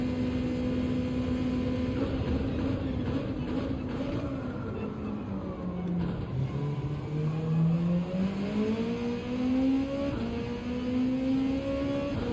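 A Dodge Viper race car engine in Gran Turismo 7 drones steadily at high revs, the pitch dipping and climbing again as it shifts, a continuous moderately loud tone with no talk.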